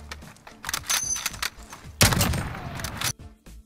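Rapid gunshots crack in quick bursts during a 1v1 video game match, close and loud, with metallic pings, one heavy blast near the middle, and a sustained rattle after it.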